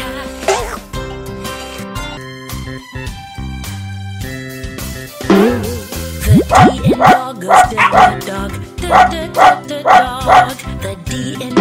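A small cartoon dog barks repeatedly in a quick, even rhythm, loud and close, over a cheerful children's nursery song with singing.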